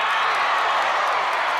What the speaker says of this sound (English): They'll cheer for anything.